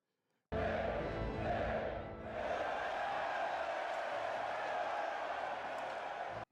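A film arena crowd in Gladiator cheers and roars in a sustained mass of voices that dips briefly near the start, then holds loud and steady before cutting off abruptly.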